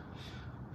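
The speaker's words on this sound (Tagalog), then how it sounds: "mga uwak." Crows cawing among bare trees after winter snow has melted, a brief harsh call at moderate distance, fairly faint and heard alone without talk.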